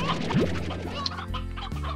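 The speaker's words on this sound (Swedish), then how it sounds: "där borta hade vi lite kycklingar och eller hönor" Chickens cluck in the game Slime Rancher, a steady run of close clucks and scratchy calls over a continuous background game sound.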